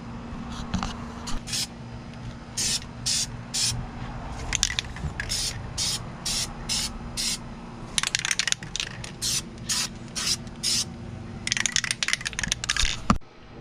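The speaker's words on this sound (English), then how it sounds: "I'm gonna use black Plasti Dip as the base coat" Aerosol cans of black Plasti Dip base coat spray onto a car interior part in short, hissing bursts, a rapid series of quick pumps followed by longer sprays, with faint rattling and handling noise between them.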